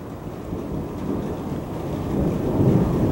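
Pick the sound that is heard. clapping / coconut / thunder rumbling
thunder rumbling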